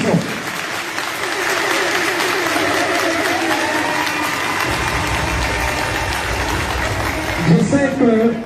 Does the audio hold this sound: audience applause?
yes